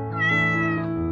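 A single cat meows once, a clear drawn-out call heard up close with nothing else around it.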